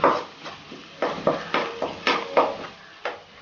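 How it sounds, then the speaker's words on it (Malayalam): Eggs stirred in a pan with a utensil for an egg roll: a string of sharp, evenly spaced scraping clinks against the pan, close and fairly loud, with no talking. "അപ്പോൾ നമുക്ക് ഈ മുട്ട ഒന്ന് ഇളക്കി കൊടുക്കാം"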